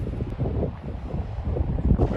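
Strong gusts buffet the microphone on an open golf course, a rough, blustery roar rising and falling over a couple of seconds with faint voices behind.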